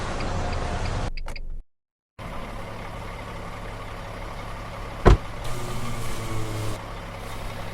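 A car engine rumbles at close range and briefly cuts out. It then settles into a steady low idle, with one sharp click partway through.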